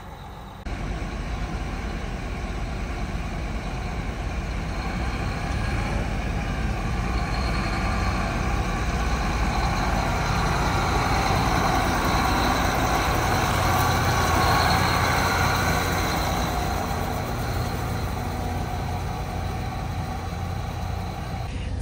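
Truck hauling a tractor home from a farm show, a steady loud engine and road roar heard from inside the cab, continuous and unchanging throughout.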